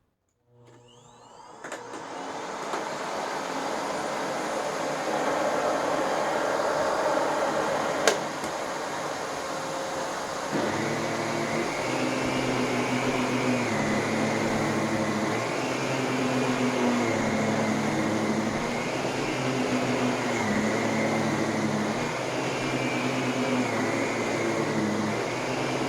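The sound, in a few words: vacuum cleaner cleaning up sand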